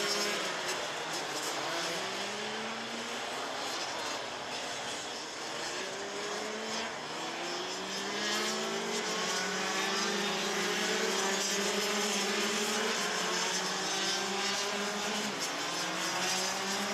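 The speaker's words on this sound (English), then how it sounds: "still pounding the track despite his choice of tyres, Tanya Yildiz from Germany." Rotax racing kart engines at a Euro Trophy round in Muelsen, a continuous high-pitched whine of several karts at a distance, pitch rising and falling as they pass along the track.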